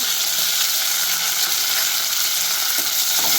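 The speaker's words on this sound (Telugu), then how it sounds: "ఒకసారి ఫ్రై చేసుకుందాం." Mustard seeds, cumin, curry leaves and dried red chilies frying in hot oil, a loud, steady, dense sizzle with faint crackles throughout, close up and without talk.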